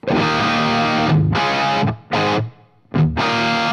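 Distorted electric guitar chords played through a Tone King Imperial preamp and Marshall JMP amp in short bursts, with abrupt stops and brief silences between them.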